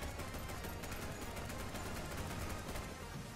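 Dense, continuous gunfire from shooting zombies in Undead Blocks, a loud unbroken rattle of rapid shots filling the whole stretch with no pauses.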